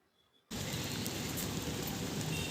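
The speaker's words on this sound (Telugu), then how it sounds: "వర్షం పడుతుంది ఫుల్గా." Heavy rain pours steadily onto a terrace garden at night, a dense, loud hiss of drops that bursts in abruptly after a brief quiet moment and stays constant to the end.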